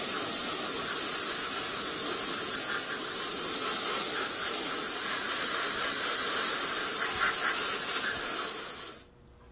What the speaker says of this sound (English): I'm going to spray the entire model with a tint of buff color mixed with white.